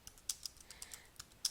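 Keystrokes on a computer keyboard, a handful of separate light clicks in an uneven rhythm, close and fairly quiet with no voices.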